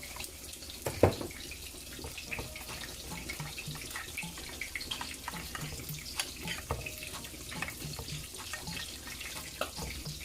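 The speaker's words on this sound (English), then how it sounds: "And now I'm gonna add some water, about 1/2 cup." Water runs from a tap, a steady rushing stream filling a vessel in a kitchen while cooking pan-seared salmon with garlic and herbs, continuous and fairly close with a brief louder splash near the start.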